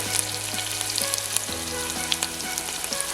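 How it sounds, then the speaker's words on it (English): Two onions fry in a pan over the flame while being stirred, making a loud, close sizzle with scraping stir sounds and no talking. "Turn the flame to low so that it nicely gets fried."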